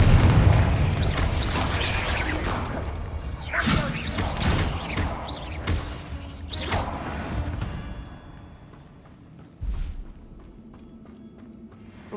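Spell explosions in the Hogwarts Legacy video game, Confringo and Bombarda, a run of booming blasts and sharp bursts with whooshes and crashes, loud at first and then thinning out, faint speech in the mix.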